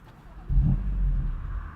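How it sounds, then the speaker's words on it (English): A 2020 BMW M2 Competition's engine rumbles low and steady while driving, swelling noticeably about halfway through and then holding a strong, even drone. "Some of the sounds this car makes are just incredible."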